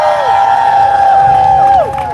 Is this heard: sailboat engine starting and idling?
no